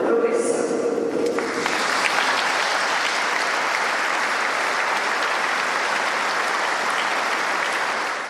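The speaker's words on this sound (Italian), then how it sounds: "Lacrime e tanti applausi per un'uscita di scena avvenuta troppo presto" Sustained applause from a crowd at a farewell funeral in Favara, dense and steady clapping that swells after a brief spoken moment and holds evenly to the end.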